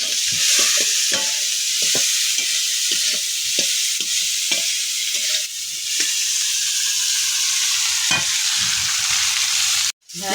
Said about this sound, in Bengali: কড়াই তেল গরম হয়ে গেছে, উচ্ছেটা দিয়ে দেবো